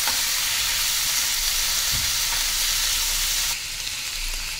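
Onion sautés in a pan for a makhni gravy, giving a dense, even hiss of frying oil that holds steady throughout and drops slightly in level near the end, with no clear stirring strokes or voices.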